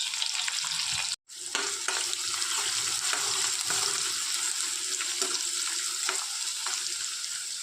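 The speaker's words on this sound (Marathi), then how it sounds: "कांदे लसूण चांगले परतून घेऊ" Onions and garlic paste fry in a pan for a potato bhaji, a loud, continuous sizzle broken by scraping stirs and one brief gap of silence early on, with no voices.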